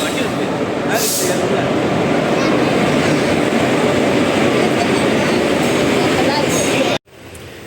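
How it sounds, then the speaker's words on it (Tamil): A train arriving at a station rumbles loudly and steadily on the rails with clattering wheels, then the noise cuts off sharply near the end. "ட்ரெயின் இப்போ தான் உள்ளே வந்துக்கிட்டு இருக்கு."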